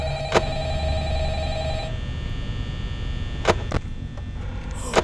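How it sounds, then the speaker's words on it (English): A telephone in the Five Nights at Freddy's game rings with a steady electronic tone for about two seconds, then stops, followed by a low hum and a few sharp clicks. "isn't this the call where Phone Guy dies"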